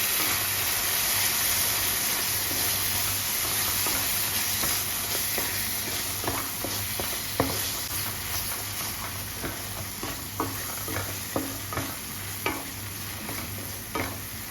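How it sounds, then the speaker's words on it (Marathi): Coconut masala paste sizzles steadily in hot oil in a kadai while a spoon scrapes and stirs it in a loose, repeated rhythm, close and continuous. "तो चांगला तेलामध्ये परतून घ्यायचा आहे"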